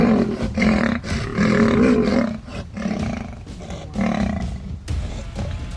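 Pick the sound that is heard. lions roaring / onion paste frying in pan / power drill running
lions roaring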